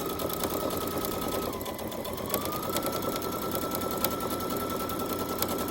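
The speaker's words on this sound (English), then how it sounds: "we're just going to sew along the bottom" Sewing machine stitching along the bottom of a drawstring bag, a steady, close mechanical whir with rapid needle clatter running throughout, no talk.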